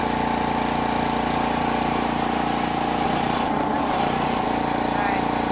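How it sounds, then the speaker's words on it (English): An Air Venturi air compressor running close by, a loud, steady mechanical drone with a constant hum that holds unchanged throughout. "Turn the compressor on."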